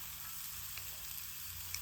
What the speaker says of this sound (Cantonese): 跟住就煎熟啲南瓜